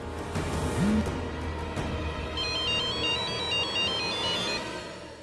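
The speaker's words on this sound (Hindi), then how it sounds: "अरे कमबख्त सुनहरी, फोन उठाओ" A telephone rings with a repeating electronic ringtone pattern over a low background rumble in a dramatic indoor scene, steady and fairly loud throughout.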